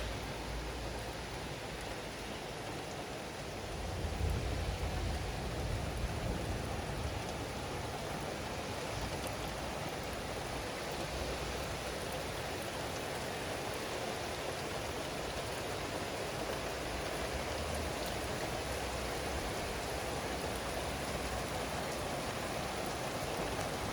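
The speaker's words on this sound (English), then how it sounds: "Wow, it started raining." Rain falling steadily as a continuous broadband patter and hiss, unchanging throughout, with no voices.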